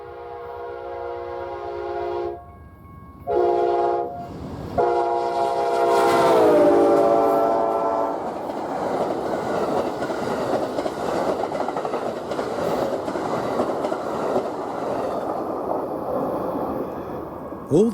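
Westbound Amtrak Southwest Chief passenger train, with Metrolink coaches and Pacific Surfliner cars, in Santa Fe County, New Mexico, sounds long multi-tone horn blasts, then roars past close by with steady rumbling and clatter of the cars.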